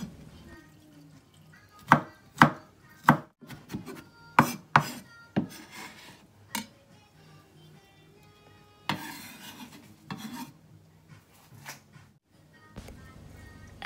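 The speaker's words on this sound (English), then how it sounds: "Put some garlic and minced it." Garlic minced with a knife on a board for japchae, a run of sharp, uneven chopping knocks, some loud and some soft, with brief rubbing and scraping between them and no talking.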